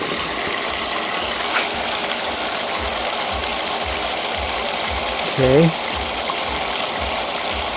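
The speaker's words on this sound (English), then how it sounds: "the bilge pump is hooked into a 12-volt power supply. And we'll turn it on, let you hear it" A 12-volt bilge pump runs steadily, pushing water through a gold prospecting concentrate machine with a constant churning, rhythmic mechanical pulse and water rush close by; a voice speaks briefly near the end.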